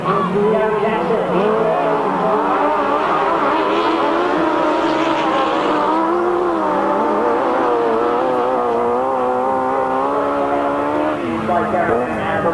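Right-hand 1000cc sidecar motorcycles race on a grasstrack at a 1992 bonfire meeting, engines roaring and revving loud and continuous as they run close by, with commentary speech over the noise.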